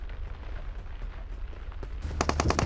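A quiet, muffled stretch in a PUBG Mobile match gives way to a sharp, close burst of rapid gunfire cracking out in quick succession at the end.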